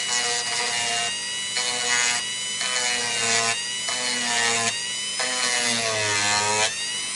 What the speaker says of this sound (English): I'm just going to get the Dremel out and do a little bit of adjustment. So first thing I'm going to do is just flatten this bevel off here.